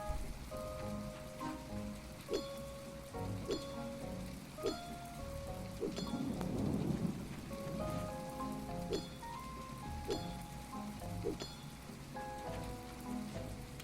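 Rain falls in the video game My Time at Portia while a character mines, a soft, steady patter of rain beneath repeating chiming tones and game music, with a brief low rumble swelling in the middle.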